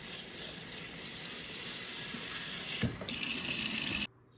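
Tap water runs steadily into a kitchen sink while freshly picked green beans are rinsed before blanching, a continuous close splashing stream with a brief clatter near the end before the flow cuts off.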